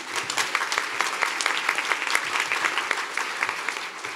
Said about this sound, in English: Please give Emily a big round of applause